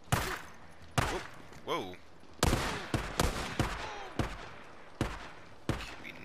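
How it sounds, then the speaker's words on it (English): Gunfire from Iron Mike in Days Gone: sharp, loud shots in an irregular string, some in quick pairs, ringing out close with brief echoes, while a man gives a short exclamation. "Iron Mike's shooting that dude from upstairs."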